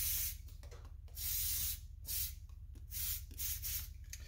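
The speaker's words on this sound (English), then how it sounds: "So it even has some temperature sensors in here that I'm just gonna spray." Bursts of aerosol cleaner sprayed onto the temperature sensors of a dirty Subaru mass airflow sensor, several loud close hissing blasts with brief gaps between them.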